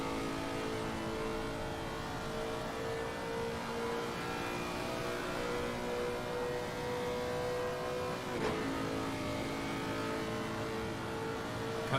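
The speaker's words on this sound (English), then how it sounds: "Listen to that incredible sound of that engine." A GT race car engine in Assetto Corsa Competizione on the Watkins Glen track, a steady, loud, high-revving drone with shifting pitch and a brief gear change, heard alone.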